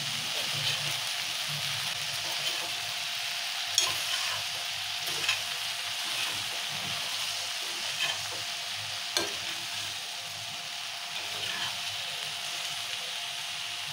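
Okra stir-fried in a pan over low heat, a constant close sizzle broken by repeated scraping and stirring knocks, with no talking.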